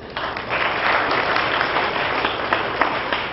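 An audience applauds at a press conference, with dense, sustained clapping at a fairly loud and even level throughout.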